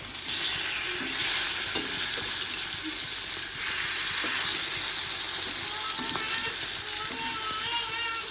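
Eggplant sizzles steadily as it fries in a pan, with a ladle stirring and scraping through the pieces in irregular strokes, close and moderately loud.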